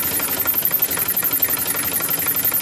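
A Massey Ferguson 1035 tractor fitted with power steering idles at very low rpm, its diesel engine giving a steady, close, rhythmic knocking chug with a faint vibrating rattle and no voices.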